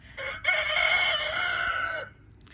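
A rooster crows once, close and loud, in a single sustained, slightly falling call that lasts about a second and a half before cutting off into quiet.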